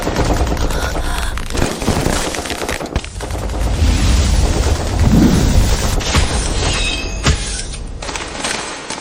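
Gunfire in a dramatic action scene, dense bursts of shots and impacts running continuously at loud level, with brief lulls and a voice faintly under the din.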